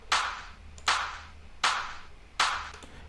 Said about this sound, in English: Yeah, and we have a clap here.